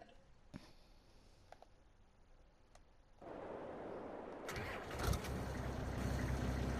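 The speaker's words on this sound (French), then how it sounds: "Pourquoi j'entends un moteur?" A quiet, sparse stretch with a few clicks, then a car engine in Farming Simulator 22 starts up and settles into a steady rumbling idle, growing louder toward the end.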